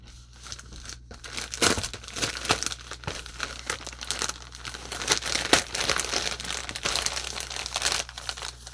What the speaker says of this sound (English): let's pull this off the table and just tear it open here